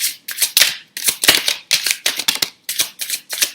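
Repeated crisp riffling bursts of tarot cards being shuffled, a steady rhythm of short papery rustles close by, with no talking.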